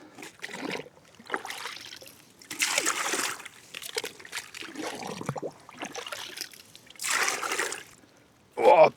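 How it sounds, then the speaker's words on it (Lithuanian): Water scooped from a small backyard fishing pond into a container in winter, several short splashes and sloshes between quiet gaps, close by. "O, prisėmiau vandens"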